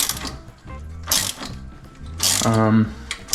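Ratchet wrench clicking as it breaks loose the sway bar nut on a 2013-2018 Ford Focus ST, with bursts of quick mechanical ratcheting close by and faint background talk.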